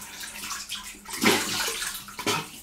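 Water runs and splashes while a straight razor is rinsed, a close, irregular gush with two stronger bursts as the blade passes through the stream, and no talking.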